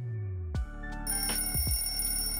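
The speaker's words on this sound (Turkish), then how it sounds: "Öncelikle saat 6'da alarmım çalıyor ve uyanıyorum." An alarm goes off at 6 o'clock on a school morning, several sharp ringing bursts repeating in close succession over a steady electronic tone, loud and close with no talking.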